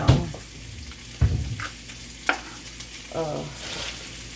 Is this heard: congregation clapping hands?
no